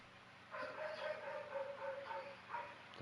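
A dog in Final Fantasy XVI gives a short run of soft barks and yips, fairly quiet and spaced about half a second apart over a faint background hum.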